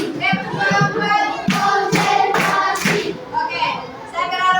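Children in a classroom clap along with a rhythmic group chant, with repeated claps, voices throughout and occasional thumps.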